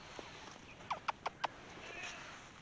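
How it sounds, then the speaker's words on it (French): A hen or rooster gives a quick run of four soft clucks close by on a farm, over a steady outdoor background hiss. "si c'est un coq, Rocky. Et si c'est une poule, Roquette"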